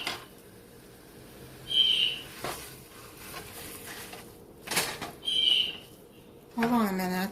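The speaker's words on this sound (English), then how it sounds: "I think that bird on the computer is chirping too loud" Blue jay chirping from a Cornell Lab live feeder stream playing on a computer in a kitchen, two short high calls a few seconds apart, faint and distant under background noise and a voice speaking.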